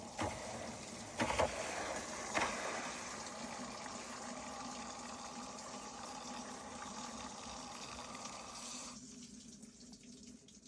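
The cold water valve of an LG washing machine with a continuous-fill fault sends a steady stream of water into the tub. A couple of faint clicks come early, and the flow thins and quiets toward the end.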